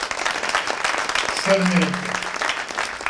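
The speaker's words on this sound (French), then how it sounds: "Je vous demande de l'applaudir." Audience applause at a business leaders' club conference, steady dense clapping from a crowded room continuing throughout, with someone speaking over it.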